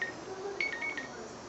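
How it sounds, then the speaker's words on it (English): A short electronic phone alert chime, a few brief high tones in quick succession, heard close and moderately loud over a quiet indoor background during a hummingbird rescue. "that's just my phone with an alert."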